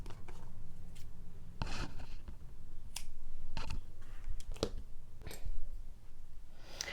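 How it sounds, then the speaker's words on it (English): Scissors cut crochet yarn in a run of sharp, close snips and clicks scattered unevenly over several seconds amid soft handling rustle. "then we're going to go ahead and cut our yarn"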